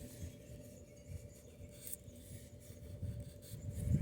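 A pocket knife shaves thin curls from a stick of wood to make a feather stick, giving soft, repeated rasping scrapes close by that build slightly louder toward the end.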